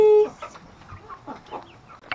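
Chickens settling in a coop at night give a few soft, scattered clucks and murmurs, fairly close and quiet, after a brief steady tone at the start.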